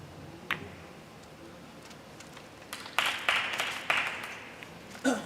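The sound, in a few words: audience applause at pool match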